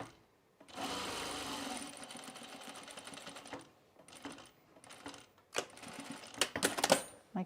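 A sewing machine stitches down a welt pocket on a Sylvan jacket in one sustained, close run of rapid needle chatter. Scattered clicks, knocks and fabric-handling sounds follow after it stops.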